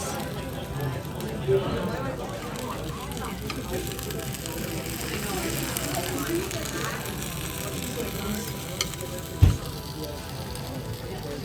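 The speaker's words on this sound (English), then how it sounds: "Can you hear the sizzle?" A seafood pancake sizzles hot on a plate with a soft, steady hiss and crackle as people chat over it. A sharp knock comes near the end.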